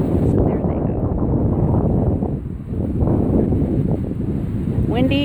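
Wind gusts roar steadily across the microphone in an open park, a loud, broad rumbling rush that dips briefly midway, with a short high voice near the end.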